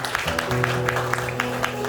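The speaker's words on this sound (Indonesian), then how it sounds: "Berikan tepuk tangan sekali lagi buat Tuhan saudara." A church congregation at a Sunday morning service claps together in a quick, rhythmic burst, with a sustained tone and murmuring voices beneath the applause.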